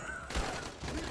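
Rapid burst of gunfire striking the player in a video game, a dense rattling volley over about a second with low thumps, fairly faint.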